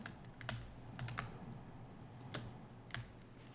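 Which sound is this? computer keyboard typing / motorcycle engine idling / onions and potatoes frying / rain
computer keyboard typing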